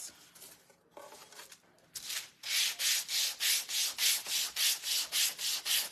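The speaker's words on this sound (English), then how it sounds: "Let's sand this." A wooden primitive saltbox house craft kit is sanded by hand: after some light scraping and handling, a dozen steady, even back-and-forth rasping strokes follow in a regular, close rhythm.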